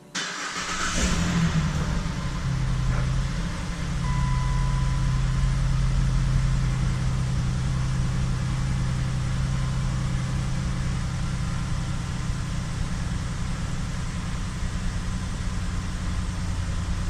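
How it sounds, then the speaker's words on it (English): A car engine idles steadily after a brief start-up noise, while being checked for a P0456 fault code, a continuous low rumble with a faint whine, close and unchanging throughout. "Let's go run this car to see if this code disappears"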